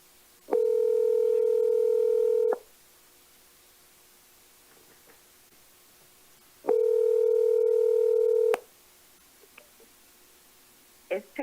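A telephone call is being placed: a steady electronic ringing tone sounds twice, each lasting about two seconds, with a long quiet pause between them and a few faint clicks afterward.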